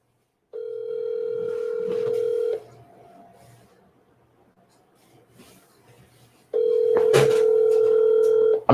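A telephone ringback tone sounds in two long steady bursts separated by a quiet gap with faint clicks and handling noise, like an outgoing call placed to a phone number.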